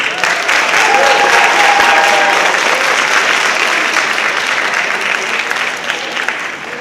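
At a high school senior awards night, the audience gives a group of honorees one more loud round of applause, full and sustained before slowly easing off, with a brief whistle early on.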